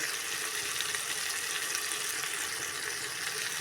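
Tomatoes with chilli powder and turmeric frying in oil, softened, for a drumstick and potato curry; a steady, even sizzle and crackle continues throughout without any talking.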